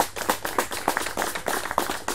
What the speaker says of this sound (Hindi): जोरदार ताली बजाओ भाई जीजी के लिए।